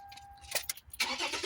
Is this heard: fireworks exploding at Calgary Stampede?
no